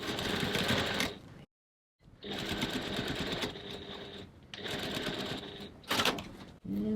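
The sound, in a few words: sewing machine stitching along the line, back stitching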